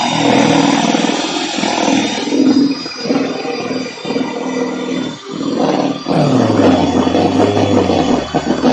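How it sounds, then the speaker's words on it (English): Electric whisk whipping a glossy chocolate mixture, a loud steady motorised whir that dips and strains in several spots, then drops to a lower, labouring pitch near the end as the mixture thickens. "You'll hear the whisk start to slow down because it does become extreme."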